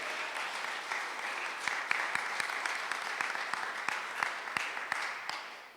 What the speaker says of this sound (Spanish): Dale un aplauso a esta palabra al Señor.